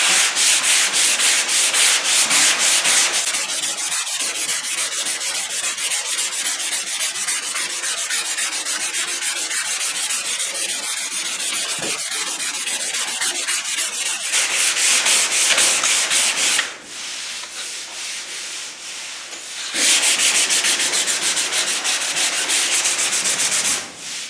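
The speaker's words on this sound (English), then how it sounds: "you can just continue to sand it and try to get the shape right" Block sanding body filler on car bodywork, a continuous close abrasive rubbing that shifts in texture as the block moves back and forth, pausing briefly near the end before resuming, with no talking.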